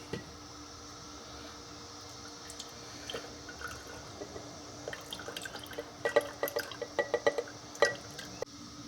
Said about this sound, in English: I think it's cooled down enough to put in our jar.